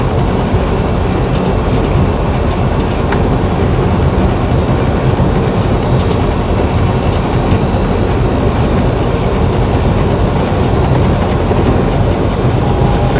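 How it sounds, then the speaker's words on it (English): Freight trains run along the I-80 corridor near Green River, Wyoming, a loud steady rumble and rolling rail noise, heard from a truck on the highway and continuous throughout with no talking. "this is a hot spot for trains"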